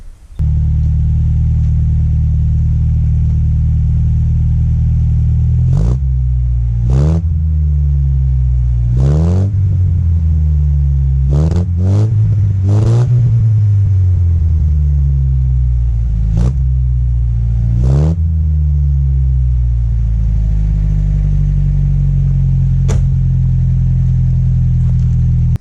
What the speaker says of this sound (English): So let's take a listen to the 100 exhaust.